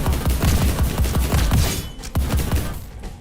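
Rapid bursts of gunfire shooting at monsters in the roguelike game Sephiria, with loud, punchy repeated shots in a fast rhythm for about two seconds, then a brief pause and a few more scattered shots.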